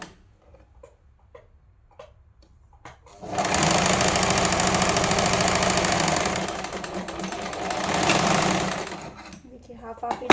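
A sewing machine stitching fabric for a child's lehenga choli, a fast mechanical rattle running close for about six seconds, easing off briefly, then rising again, framed by quiet handling clicks before and after.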